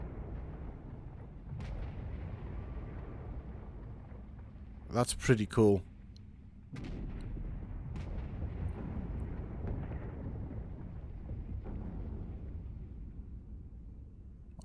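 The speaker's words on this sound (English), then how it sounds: "That explosion that just happened." An explosion in the video game ARK Genesis bursts out once, loud and short, between stretches of steady game noise, with a voice talking before and after it.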